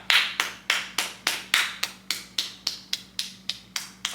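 Hand claps mimicking walking footsteps, about thirteen sharp claps in a steady, even rhythm, close and fairly loud, with no voices over them.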